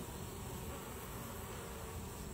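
Honeybees at a hive buzz during an oxalic acid vapor treatment, a faint, continuous and even drone heard alone outdoors.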